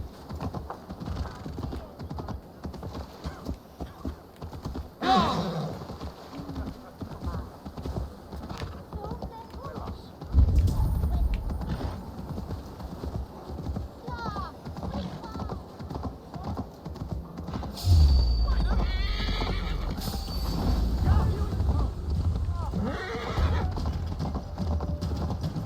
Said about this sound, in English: I can ride my horse through town